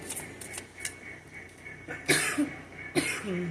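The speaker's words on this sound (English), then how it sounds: "Haven't even started the message and already coughing." Several coughs, a few faint and scattered early on, then two louder, harsher coughs close by near the end, with quiet room sound between.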